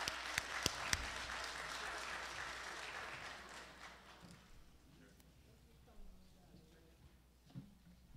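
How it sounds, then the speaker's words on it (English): A church congregation at a combined Good Friday service breaks into loud applause with a few sharp claps up front, then fades to quieter crowd murmur and light talk by the end. "give him a clap."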